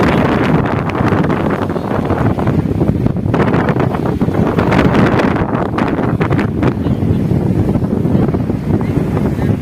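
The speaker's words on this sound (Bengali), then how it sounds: "আর এখানে দেখুন কত সুন্দর ঢেউ দিচ্ছে" Wind buffets the microphone loudly beside the Ganges river while waves wash and churn underneath, a constant rough roar with no clear pauses.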